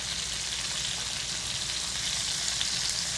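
Thin veal scallops fry in a hot pan, giving off a steady, close sizzle with a soft crackle and no voices over it.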